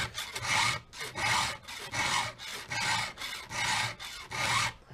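Chainsaw chain teeth clamped in a vise are hand-filed with steady rasping strokes, about ten back-and-forth passes in a regular rhythm, close and fairly loud, with no talking.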